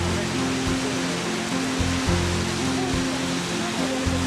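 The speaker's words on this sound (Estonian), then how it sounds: "Selline ilus kosk keletupsude maastikule." Steady roar of a waterfall tumbling down a slope in the Caucasus mountains, a dense, constant rush of falling water heard close and loud throughout, with a faint low hum running underneath.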